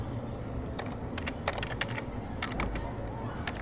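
Keys clack in irregular bursts on a computer keyboard as someone types a search query, fairly close and moderately loud over a low background hum.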